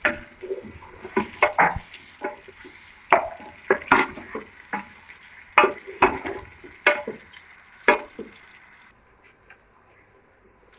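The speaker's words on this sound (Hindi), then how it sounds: "तेल गर्म होने की ज़रूरत में उसमें प्याज और लहसुन डाल दें और इसको अच्छी तरह फ्राई करें 2 मिनट के लिए।" Onion and garlic frying in hot oil while being stirred for a haleem recipe, with close, irregular clatters and sizzling bursts from the pan that fade out near the end.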